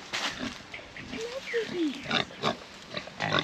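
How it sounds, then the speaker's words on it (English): Pigs grunting in a pen at a farm near Mataranka, a run of low grunts and squeals scattered through the clip, fairly close, with voices talking intermittently over them. "And my pigs."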